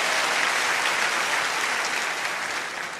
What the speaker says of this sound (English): Everybody's clapping except the teenagers